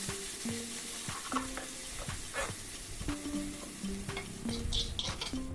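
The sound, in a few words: smashed chicken frying in ghee for Hyderabad haleem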